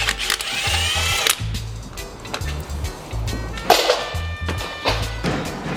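A power tool whirs in short repeated bursts while removing the starter motor bolts from a car with a 454 engine, close and fairly loud, with clanks between runs.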